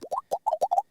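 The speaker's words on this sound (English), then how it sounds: "that made it a little bit of a plopping sound" A quick run of about seven cartoonish plopping pops, bouncy and close, each a short pitched blip in an uneven rhythm.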